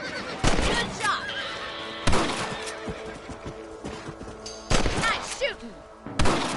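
Several sharp gunshots ring out in Red Dead Redemption, loud and spaced a second or more apart, with outdoor ambience, a horse's whinny and game voices talking between the shots.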